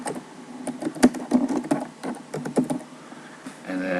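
Someone types a catalog search on a computer keyboard, a quick irregular run of close key clicks and taps with soft background noise and no speech.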